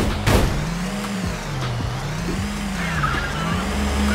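Toy cars racing in the Android and iOS game Toy Rider, an engine note wavering up and down with gear shifts, a sharp impact at the start and a brief tire squeal later, loud and close.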